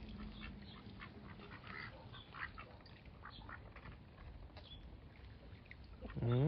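Mulard and quacking ducks call on a small farm, scattered quacks and chatter over a noisy background, with a louder harsh burst near the end.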